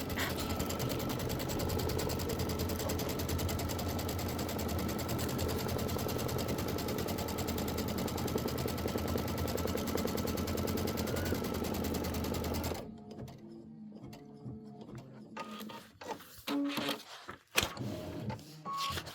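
An embroidery machine sews a placement stitch for a Christmas poinsettia design, a loud, fast, continuous mechanical stitching hum that stops abruptly near the end, followed by scattered clicks and handling noises.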